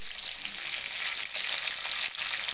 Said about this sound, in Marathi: आता हे शेंगदाणा म्हणजे मुंगफली कढीपत्ता ते टाकते